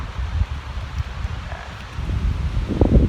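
Cool wind gusts at Wanakorn beach in Prachuap Khiri Khan, a national park campsite, giving a low, uneven rumble and rustle against the microphone that swells louder toward the end, with no talking.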